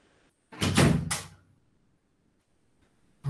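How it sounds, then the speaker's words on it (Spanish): An indoor door swings shut with a short rushing sweep and solid thud, followed by quiet and the start of another knock or bump at the very end. "Voy a cerrar aquí la puerta."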